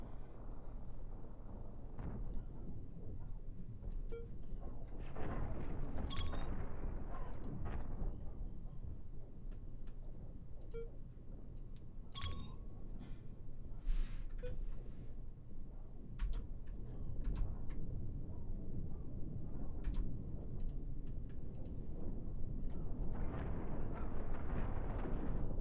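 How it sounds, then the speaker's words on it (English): Rocket salvos and explosions in the space-combat game Cosmoteer, a continuous loud rumbling barrage of deep booms and crackling impacts that swells and fades in waves throughout, with scattered sharp ticking hits. "Good rocket salvo there."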